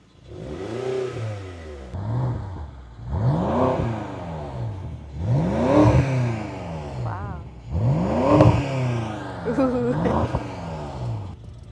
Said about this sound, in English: How does the stock 550 horsepower motor sound?